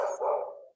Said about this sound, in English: Sorry for my dog, guys.